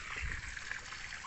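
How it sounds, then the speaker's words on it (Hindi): Water from a submersible pump at a brick kiln trickles and splashes steadily, a continuous close running-water sound with no talk. "पानी आ रहा है समरसेबुल का"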